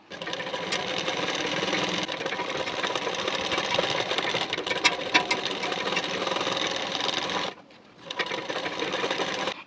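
A sewing machine runs steadily, stitching the waistband of a boat-neck blouse, with a continuous close mechanical whir that stops briefly near the end before starting again.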